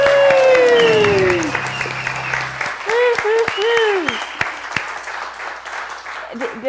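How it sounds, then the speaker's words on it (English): Applause and scattered cheering from an audience, with a loud voice and whoops over the clapping. "Let's give them a warm round of applause."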